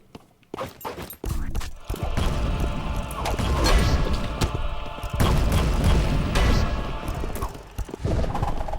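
Bombs going off in the hack-and-slash game Conan Chop Chop: a series of heavy booms and crashes following one another over several seconds, loud and busy with clattering impacts and brief quiet gaps between bursts.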